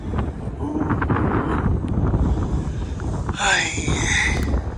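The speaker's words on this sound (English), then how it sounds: "And wind." Strong wind buffets the microphone near moored warships at Pearl Harbor, Hawaii, a loud continuous rumbling roar with gusts, and a person makes a short vocal sound near the end.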